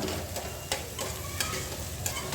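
Green peas sautéing in hot oil in a pan, heard as steady close frying sizzle with a few sharp spoon scrapes and stirs, no talking.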